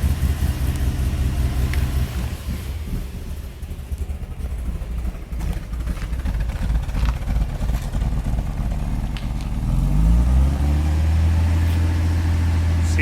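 A Lexus IS300 engine with a faulty oil control valve idles with a low steady rumble, then surges into a louder rev near the end, heard up close without speech.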